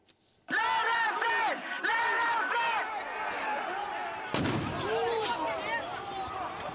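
Gunfire during the storming of the US Capitol: loud sharp bangs ring out over a crowd's shouting and chanting voices, with a heavy blast partway through and the noisy crowd continuing afterward.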